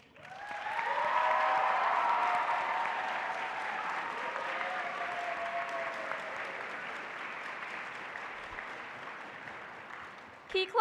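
Sustained applause from a large convention audience at a Key Club International opening session, many hands clapping in a broad wash that builds quickly, then gradually fades over about ten seconds, with faint voices mixed in.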